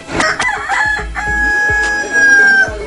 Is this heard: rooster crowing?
yes